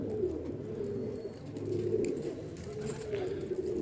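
A pigeon coos in soft, repeated low murmurs close by, steady through the moment, with faint background noise.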